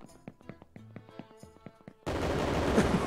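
AK rifle fire in a video game erupts as a loud, dense burst in the final second, after quieter tonal game sounds and scattered clicks.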